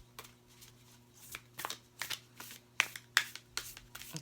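A Mystical Shaman Oracle card deck being shuffled by hand, giving a series of quick papery riffles and flicks that grow busier and louder toward the end, close up and without talk.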